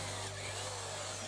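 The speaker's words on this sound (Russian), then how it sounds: "По центру делаем более толще отверстие" Power drill boring a hole through the centre of a clamped wood piece, a faint steady motor whine with an even hum, no talk.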